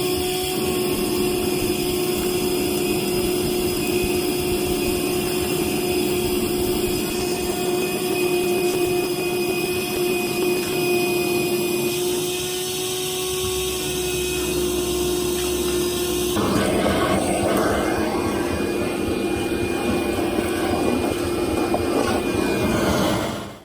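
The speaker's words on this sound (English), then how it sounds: "I'm gonna have to get my little vacuum and clean out all the debris now." A small vacuum cleaner runs continuously with a steady high-pitched whine and airy roar, cleaning debris from a kitchen cabinet, its tone shifting slightly as it moves, no talking.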